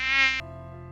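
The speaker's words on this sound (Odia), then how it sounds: "କିଛି ସମୟ ପରେ ମହୁମାଛି ଗୁଡ଼ିକ ଉଡ଼ିବାକୁ ଲାଗିଲେ।" Swarm of bees taking flight in an animated village story, a close, bright buzzing drone that cuts to a lower, steadier hum partway through the short moment.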